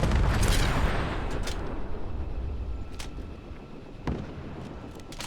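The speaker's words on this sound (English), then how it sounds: "Explosions and several misses from me." Rumbling explosions and booming blasts with a heavy low roar, punctuated by a few sharp bangs near the end, in the video game Fallout 4.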